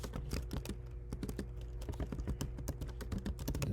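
Rapid, close computer keyboard typing as a prompt is entered, a continuous run of crisp key clicks with uneven rhythm, heard alone without talk.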